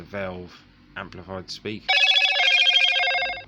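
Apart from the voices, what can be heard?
mobile phone ringing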